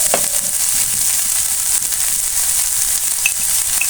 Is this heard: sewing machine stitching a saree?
no